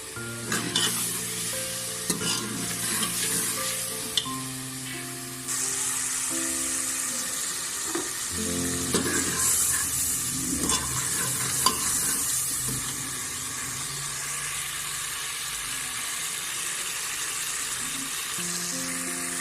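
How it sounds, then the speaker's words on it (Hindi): Spice masala fries (bhuna) in a pan with a little water, giving a continuous close sizzle with occasional stirring scrapes, set against steady tonal background music. "तो मसाले को मैंने अच्छे तरीके से भून लिया है।"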